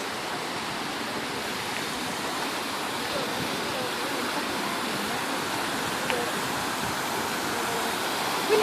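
Hossawa waterfall in Japan flowing as a soft, steady wash of falling water heard from some distance, even and continuous throughout with a faint rise at the very end.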